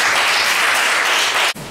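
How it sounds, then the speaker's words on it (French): Classroom audience at a Senufo language lesson applauding, a dense steady wash of many hands clapping close and loud, ending abruptly. "Applaudissez pour lui."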